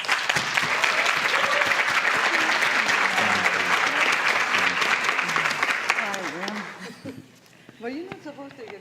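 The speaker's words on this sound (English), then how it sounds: "please give a round of applause and thank our PTO president's council coordinator" Audience applause at a school board meeting, steady clapping from a crowd that fades out after about six seconds, followed by a voice speaking alone.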